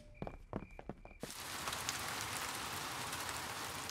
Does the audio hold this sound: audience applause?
no